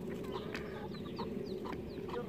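Small chicks peep in short, high chirps scattered over a steady low background hum, fairly close and without talk.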